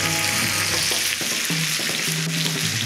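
Australian wagyu steak, aged 13, sizzles steadily in a cast iron skillet on a portable gas burner, a loud continuous frying hiss with faint crackles and no talk.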